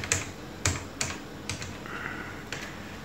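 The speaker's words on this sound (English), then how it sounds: "And then I type desktop." Typing on an Acorn Archimedes A3000 computer keyboard: five or six separate, clicky keystrokes spaced irregularly over about three seconds, close and quiet, no talk.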